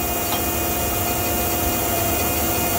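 Mazak SQT 18MS CNC turning center with its spindle running at 1,000 RPM, heard from about a foot away as a steady, even machine whir with faint tonal hums, continuous and unbroken.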